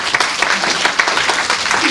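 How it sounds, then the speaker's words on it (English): An audience at a talk on race, space and design breaks into sustained applause, a dense even patter of many hands clapping close and loud for the whole stretch. "Khalil, you can get a round of applause"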